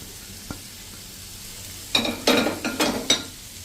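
Cabbage, capsicum and carrot are stirred in a hot pan. After a quiet start, a few bursts of scraping and sizzling come up close, separated by short pauses.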